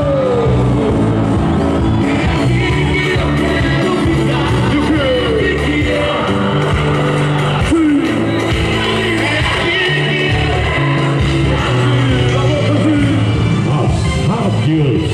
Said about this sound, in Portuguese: Cadê o grito do povo do governo?